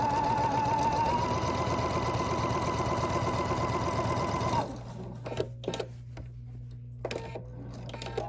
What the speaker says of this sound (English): I sew that 1/4 inch seam to the bottom.